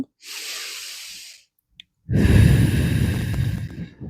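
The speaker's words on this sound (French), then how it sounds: "Une respiration" A slow, deep breath during a guided meditation: a long soft inhale, a pause, then a louder, rushing exhale that fades gradually, heard close and alone.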